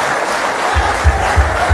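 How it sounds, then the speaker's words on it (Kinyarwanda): Applause breaks out among a church congregation during a preacher's sermon, a dense wash of clapping with a few heavier rhythmic thumps, fairly loud and without speech. "Mukomere Imana amashyi"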